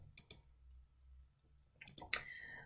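Computer mouse clicks sound at a desk while menu items are rearranged in WordPress: a couple of sharp clicks, then a quiet pause with a low hum, then another small cluster of clicks.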